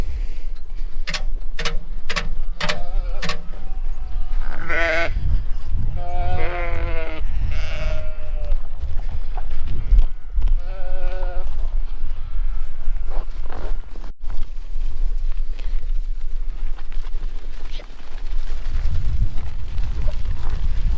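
Sheep bleat in a winter lambing barn in Canada, several wavering calls close by, mixed with shuffling, rustling and footsteps. Later the bleats die away and low handling noise carries on.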